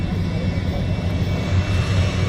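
A turbine-engine Draco airplane comes in to land at a STOL competition, its engine giving a steady, loud, broadband roar and rumble throughout, with no voices over it.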